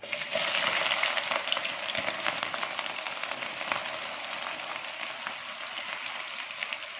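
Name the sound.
frying finely chopped onions in hot oil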